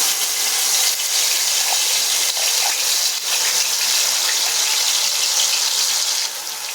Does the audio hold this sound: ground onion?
yes